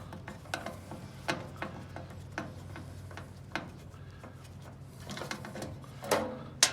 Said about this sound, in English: And then we'll remove the second screw.